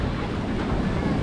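Sea waves surge onto a beach at Mazatlán, Sinaloa, in a steady, loud wash of broadband surf roar with wind buffeting the microphone, continuous throughout with no clear breaks.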